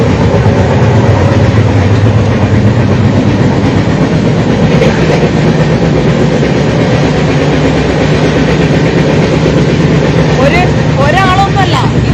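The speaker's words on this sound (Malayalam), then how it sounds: "ഒരു ട്രെയിനിൻ്റെ അവസ്ഥയാണിത്" A train rumbles along steadily with a constant loud roar and rhythmic clatter, voices murmuring throughout as if in a packed carriage.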